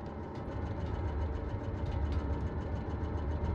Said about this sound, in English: Yeah, vroom goes the engine.